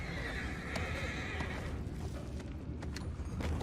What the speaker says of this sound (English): tem cavalos aqui dentro do barco